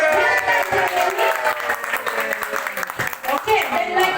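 An indoor audience claps for Pak Hussein at a sales gathering for a mobile spa business, dense sustained applause with a speaking voice over it.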